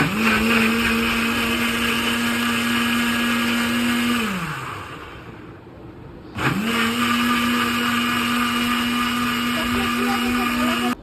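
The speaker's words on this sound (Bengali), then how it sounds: "এবার ব্লেন্ডারটা শুরু করি" Electric blender whirring through a homemade chocolate milkshake with ice and a little water, a loud, steady motor drone that winds down, pauses briefly, then starts up again at full speed.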